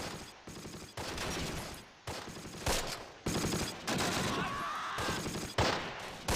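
Machine gun fire in the wartime strategy game Close Combat: Last Stand Arnhem, dense repeated bursts of automatic fire and explosions filling the whole stretch, fairly quiet overall in level.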